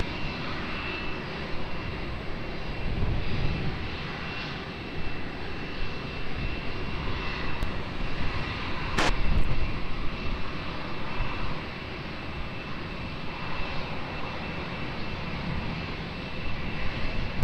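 Steady roar of a jet airliner engine at Lisbon Airport, loud and continuous throughout, with a brief sharp transient midway and no talking.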